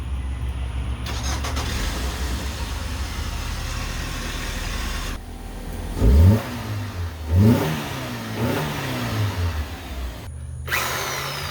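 A car engine cranks to life and revs in three or four sharp, rising bursts, close and loud, over steady low workshop hum with a brief cutoff near the end.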